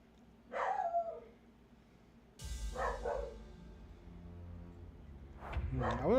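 A dog gives a few spaced barks, three short bursts, over a low droning background.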